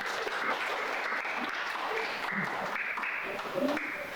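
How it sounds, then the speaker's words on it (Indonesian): An audience in a school classroom claps steadily for a few seconds, a dense patter of hands with a faint voice mixed in. "beri tepuk tangan untuk kita"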